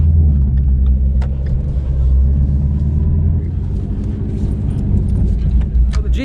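A Ford Mustang GT350R stuck in limp mode, its engine giving a loud, steady low rumble from close by, with no clear revving across the stretch.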